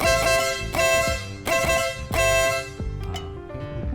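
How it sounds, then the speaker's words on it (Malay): A loud, brassy air horn fitted to a Benelli 502C motorcycle blasts repeatedly, about five long honks in a steady rhythm, close by and dominating the sound. "ini bawa betul air horn"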